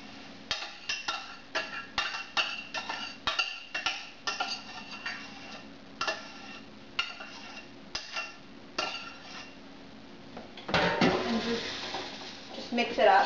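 Spoon clinking and scraping against a bowl while tossing cabbage salad with dressing, a steady run of close, quick taps and stirs, then a louder, rougher mixing burst near the end.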